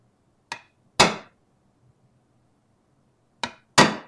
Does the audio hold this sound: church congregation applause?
no